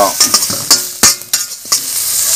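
Tempering of onion, garlic and herbs sizzling in hot oil, a close, bright hiss broken by several sharp spoon clicks and stirring scrapes over a couple of seconds.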